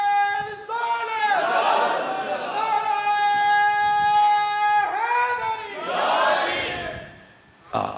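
At a religious gathering marking the Urs of Data Ganj Bakhsh Ali Hajweri, a crowd shouts slogans in loud, drawn-out unison chants, repeated several times, with a preacher's voice leading between them.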